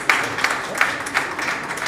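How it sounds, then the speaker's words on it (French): An audience at a Senegalese press-review ceremony applauds the event organisers, a steady patter of clapping from a crowd at moderate distance with no one speaking. "Mon ami et petit frère, Mamadou Ly, je commencerai d'abord par vous proposer d'applaudir les initiateurs, les organisateurs de cet événement"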